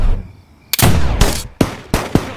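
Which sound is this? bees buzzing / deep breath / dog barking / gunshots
gunshots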